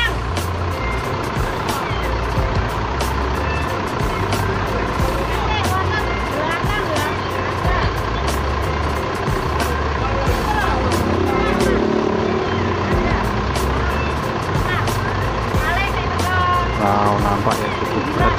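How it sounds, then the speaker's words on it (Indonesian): A bus engine rumbles steadily with hissing air brakes and beeping, amid a busy terminal with chatter in the background. "Dan bus Harapan Jaya via tol."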